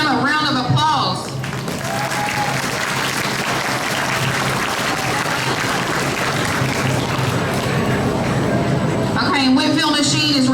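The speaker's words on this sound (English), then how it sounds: "I think we need to give them a round of applause." A crowd applauds the sponsors at the 2025 Breckinridge County Fair youth premium livestock auction, with steady clapping running throughout while voices talk over it at the start and end.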